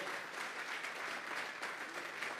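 A church congregation applauds steadily, a dense, even patter of clapping at moderate loudness for the whole moment, with no clear voice over it.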